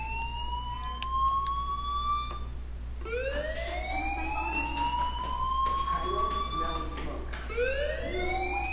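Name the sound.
fire alarm ringing in the video game Life is Strange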